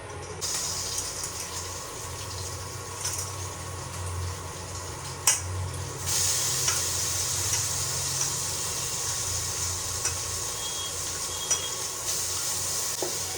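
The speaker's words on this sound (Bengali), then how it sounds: "সয়াবিনগুলো হালকা একটু ভেজে নেব একটু লাল লাল করে" Soya chunks frying in hot oil, a steady close sizzle that runs throughout with occasional stirring clicks and small bumps, no voices.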